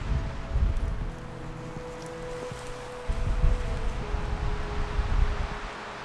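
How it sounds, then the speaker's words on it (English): Wind gusts at a mountain campsite, buffeting the microphone in low rumbling bursts that swell and ease over several seconds; no voices. "Whew, it's windy."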